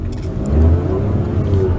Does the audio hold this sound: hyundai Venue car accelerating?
yes